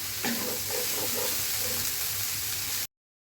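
Onions fry in a pan with a dense, even sizzle up close, a few soft stirring knocks early on, then it cuts off abruptly near the end.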